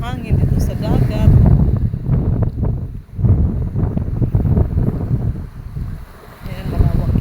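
Steady wind rushing past the microphone on a boat out at sea near an island beach resort, a loud continuous low roar with gusts, with a person talking over it.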